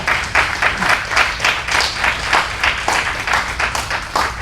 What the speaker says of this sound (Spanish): Vamos a dar un gran aplauso al Señor y su palabra.